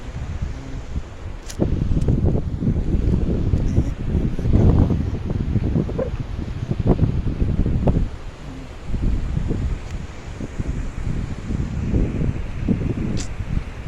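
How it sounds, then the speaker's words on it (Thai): Wind sweeps across the water on an evening at the Kaeng Kabao rapids, buffeting the microphone in loud, rough gusts that swell and ease with a brief lull, with no voices. "ลมพัดไอ้น้ำขึ้นมาเนาะ"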